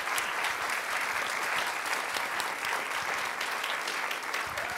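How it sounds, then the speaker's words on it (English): Steady audience applause at a live show, dense and even from start to finish with no break or swell, a packed room clapping together. "can you give Casey a round of applause?"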